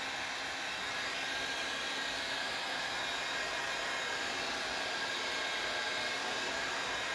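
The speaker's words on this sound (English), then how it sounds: "You don't want to get your heat gun too close to the weaves because they will burn them." A heat gun dries decoupage sealer on an old cabinet door, a steady, loud, continuous blowing roar that holds unchanged throughout with no talk.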